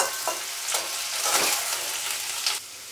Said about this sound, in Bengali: সুন্দর করে একটু গোল্ডেন হওয়া পর্যন্ত এটাকে একটু ভাজতে হবে।